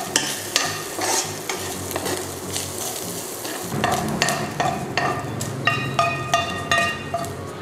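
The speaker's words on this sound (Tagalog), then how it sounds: "hanggang mag-brown yung bacon natin and maging crispy" Bacon frying in a dry, browning pan for homemade pesto, a steady close sizzle with repeated stirring scrapes and light utensil knocks throughout, no talking.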